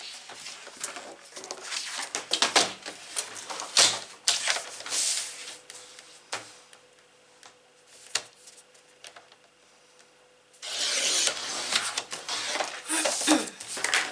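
Scissors cut through paper or card for a paper-craft circus tent page, a run of crisp snipping at close range, pausing midway before a second burst of cutting.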